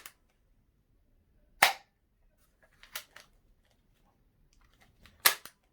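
Lehui 1911 and Glock manual toy pistols firing, giving three sharp, loud cap-gun-like cracks spaced a second or more apart, each followed by a fainter mechanical click, against near silence.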